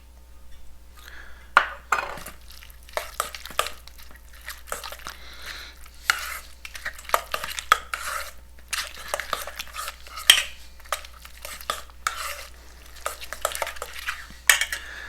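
Crushed pineapple being stirred into a Filipino-style potato salad with a utensil, giving repeated scraping and clinking strokes against a bowl at close range, irregular and steady, with no talking.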